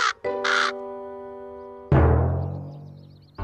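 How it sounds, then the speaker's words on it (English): A cartoon crow caws, starting with a couple of harsh calls and then a long drawn-out tonal caw, followed by a loud falling squawk, all clear and close with no talking. "It's a crow."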